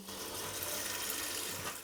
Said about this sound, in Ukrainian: Перекладаємо в кастрюлю і заливаємо двома літрами води.